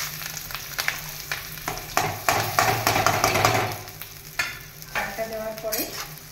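Rice with whole spices and bay leaf is stirred in a hot wok for yellow pulao, with a spatula scraping and clinking steadily against the metal over a soft frying sizzle and a low background hum.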